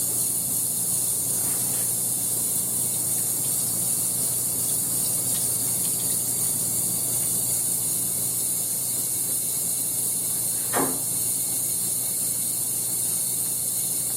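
Water runs steadily over a mounting chamber from a grinding and polishing setup, a constant soft hiss with one brief squeak partway through.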